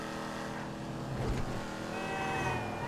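A car engine in Grand Theft Auto V roars steadily at high revs, a dense continuous drone with a brief surge in the middle, like a game vehicle held on the throttle.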